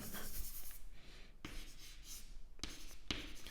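Chalk or pen writing out a math equation on a board, with several bursts of steady scratching strokes separated by short pauses, close and moderately loud.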